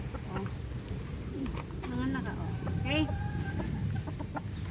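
Hens cluck and chatter nearby in short bursts, with a few higher calls, over a busy farmyard background and some human voices.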